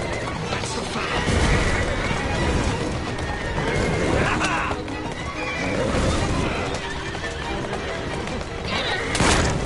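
Horse-drawn carriages clatter through Assassin's Creed Syndicate, with horses neighing, hooves clip-clopping and crashing impacts mixed into a dense, loud game soundscape, while characters talk throughout.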